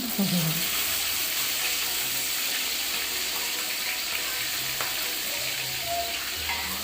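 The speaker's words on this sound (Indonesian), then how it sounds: "Nah ikannya aku goreng sampai kering ya mam" Fish frying dry in hot oil for a balado dish, giving a steady, close sizzling hiss that runs unbroken throughout with only faint background sounds.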